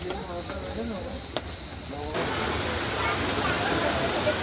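Rushing water of Düden Waterfall, starting as a softer hiss under someone speaking, then swelling after two seconds into a loud, steady broadband roar as the falls come near.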